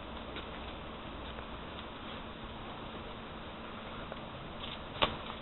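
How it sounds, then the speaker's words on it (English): Steady soft patter of rain falling outdoors beside a smouldering sawdust rocket stove, a continuous low hiss with a single faint tick near the end, no talk. "it's raining outside"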